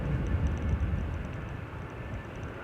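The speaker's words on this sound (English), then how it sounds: "there's a reverse thrust in there as well, actually" An airliner landing at Manchester Airport in high winds, its engines roaring steadily in reverse thrust; a broad, low rumble holds fairly constant and loud throughout, with no voices.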